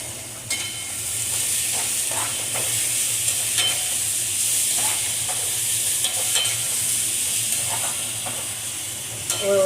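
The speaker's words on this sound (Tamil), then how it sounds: "ரொம்ப டிரான்ஸ்பரண்ட்டாக வதங்கணுங்கிறது இல்லை, ஓரளவு நல்லா வதங்கினா போதும் வெங்காயம்" Onions sautéing in a pan for vengaya masala, a steady close sizzle and hiss with repeated scraping stir strokes throughout, no voices.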